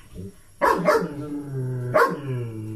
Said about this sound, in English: Just in time for the dogs going nuts.